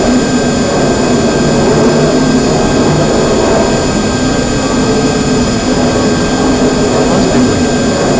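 An Airbus A320neo of Tap Air Portugal roars on its takeoff roll in a flight simulator game, its jet engines a loud, steady, unbroken whine and rumble throughout.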